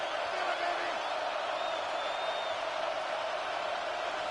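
Football stadium crowd during a game with Panthers and Pirates, a steady, distant roar of cheering and murmur holding evenly for over four seconds under the broadcast.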